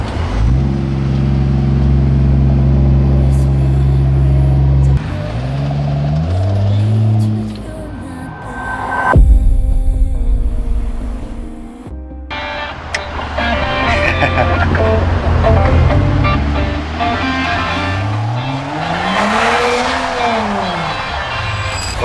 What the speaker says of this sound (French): Je vous démarre l'engin, je vous montre le bruit.